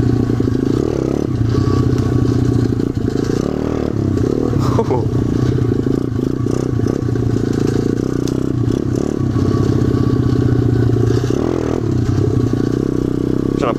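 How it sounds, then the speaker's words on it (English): An SSR 125 motorcycle with bald tires revs hard and loud close by while the rider tries to pop a wheelie, its engine note rising and falling with rattling and clatter over the whole stretch. "Trying to pop a wheelie and get some air."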